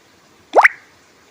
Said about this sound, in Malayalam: പിന്നെ നമുക്ക് അതിലേക്കൊരു 1/4 കപ്പ് തേങ്ങ ഇട്ട് കൊടുക്കാം.